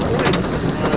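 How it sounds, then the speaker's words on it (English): Hail pelts down in a dense, steady wash of hits during a tornado-producing storm, loud and close with no gaps. "We do have hail coming down."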